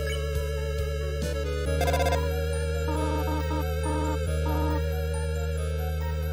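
A cell phone rings in the video game Undertale as steady electronic tones over ongoing game music, with no talk.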